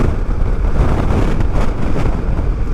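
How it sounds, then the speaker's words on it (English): Strong gusty wind buffets the microphone at a petrol station, a loud, rumbling low roar with no pause, alone throughout. "It's quite windy here."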